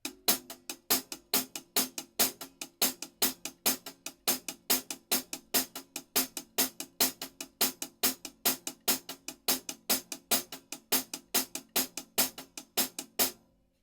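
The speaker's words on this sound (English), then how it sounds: "Let's hear how that sounds just on the hi-hat on its own." Drum kit hi-hat playing a bossa nova partido alto pattern alone, with crisp, evenly spaced metallic ticks in a steady syncopated rhythm, close and clear, with no other instruments.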